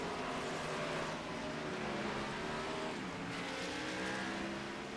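A race car in a championship-night 120-lap finale at Homestead Miami, a steady loud engine drone with shifting pitch sweeps as the car passes, sustained under a noisy track ambience.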